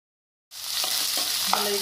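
Cumin seeds and chillies hit hot oil for a pea fry snack, bursting into a sudden loud, continuous close sizzle after a moment of silence.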